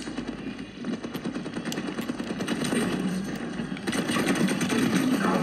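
Automatic gunfire in Overwatch 2 played on a Nintendo Switch, a continuous rapid rattle of shots that stays loud and dense throughout, with no voices.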